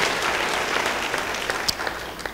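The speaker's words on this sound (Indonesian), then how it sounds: "Beri tepuk tangan bagi dia." Church congregation applauding during a Good Friday service, a dense, steady wash of clapping from many hands that carries evenly through the whole stretch, with a few sharper individual claps standing out near the end.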